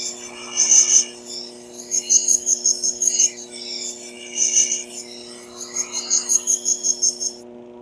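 Knife blade drawn across a sharpening stone on its second side, a run of short, rhythmic rasping strokes in quick succession, close up, over a faint steady background hum.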